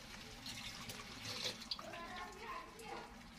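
Milk pours and splashes into a pot of cooking beans in a continuous liquid stream, with faint kitchen background noise.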